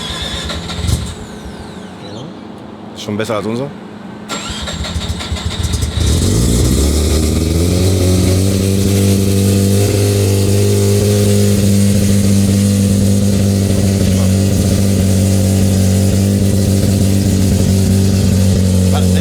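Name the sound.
car engine starting and revving on a dyno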